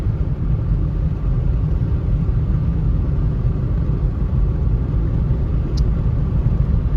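A steady low engine rumble from a 1997 Ford F-150 pickup truck with a 4.2 engine on the move, continuous and fairly loud with no talking.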